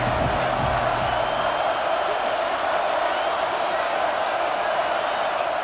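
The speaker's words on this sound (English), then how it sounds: "Here comes the noise from this big crowd in Happy Valley on 3rd down." A big football stadium crowd in Happy Valley roars on third down, a dense, steady wall of cheering and whooping that holds loud and unbroken throughout, with no clear talk over it.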